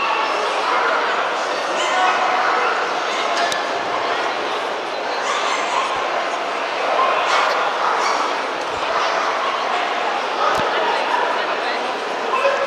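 Dogs yipping, whimpering and barking at a Bernese Mountain Dog show in Paris, scattered short calls over a busy crowd murmur, moderately close.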